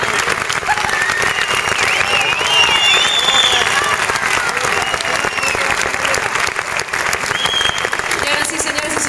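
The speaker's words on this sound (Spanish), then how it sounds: "Un fuerte aplauso para nuestras costureras que están aquí." Large audience at a PortAventura show applauding the costume seamstresses, a loud sustained wall of clapping and cheering with a few whistles, continuous throughout.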